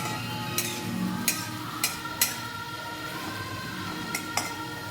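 Chicken sautéing in a little oil in a pan, a soft continuous sizzle broken by repeated sharp clinks and scrapes of a spoon stirring against the metal, roughly every half second to second.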